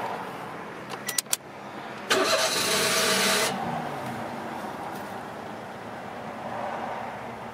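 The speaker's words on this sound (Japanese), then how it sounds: "エンジンをかけてみます。" A 2010 Daihatsu Mira Cocoa with a KF engine cranks briefly after a few clicks, fires up loudly, then settles into a steady, quieter idle, heard close and alone.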